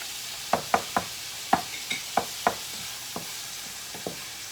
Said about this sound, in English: All right, I'm going to add my garlic here.